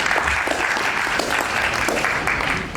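Sustained audience applause at a World Soil Day opening ceremony, a dense steady wash of many hands clapping for the full length, fairly loud and close, with no talk over it.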